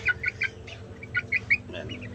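Several Brahma chickens cluck in short bursts nearby, with soft background noise and no talking.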